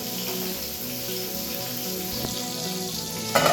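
Ash gourd leaves fry in hot oil, folded side down, with a steady, moderately loud sizzle and faint spatter that runs throughout, plus a brief clink near the end.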